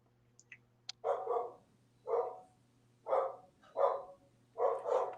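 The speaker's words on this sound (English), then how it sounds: "You hear the dogs, right?" Dogs barking in a steady series of about six muffled barks spaced roughly a second apart, heard from a short distance over a low electrical hum.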